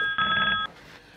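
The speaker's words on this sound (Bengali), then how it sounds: "ফোন আইছে রে।" A telephone bell rings in one loud, bright burst of about half a second, then cuts off into quiet room tone.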